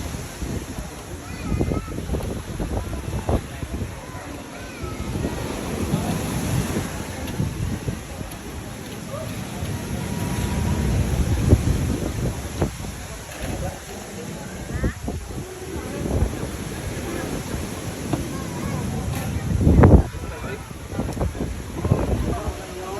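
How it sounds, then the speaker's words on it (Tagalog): Strong ocean waves roll and crash continuously at a beach on Samal Island, loud and rough, with heavy wind buffeting the microphone and a louder surge near the end. "tingnan nyo mga idol malakas yung alon dito"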